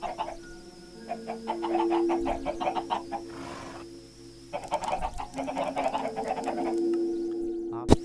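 A Minecraft chicken clucks in rapid bursts, pausing briefly before another run of clucks, with a steady electronic hum underneath.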